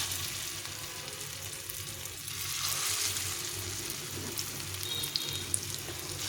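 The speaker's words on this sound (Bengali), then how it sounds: "এখন আমি এই কাবাবগুলোকে ভেজে নেব" Green pea kebabs shallow frying in oil in a pan, giving a steady, moderate sizzle and crackle with faint stirring sounds, no voices.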